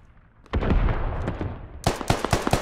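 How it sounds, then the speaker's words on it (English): Artillery and gunfire in the military shooter Squad arrive as a rapid cluster of loud booms and cracks, followed by a second sharper burst of heavy blasts. "Wait, is that artillery?"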